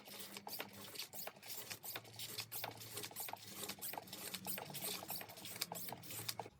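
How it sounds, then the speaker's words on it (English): An Aldi hand pump forces transmission fluid into the DSG gearbox of an MK6 VW Golf GTI, giving a steady run of quick rhythmic squeaks and clicks over a constant low hum, close and moderately loud. "I've just got this very simple pump. It's actually just an Aldi pump, but works really well getting the transmission fluid"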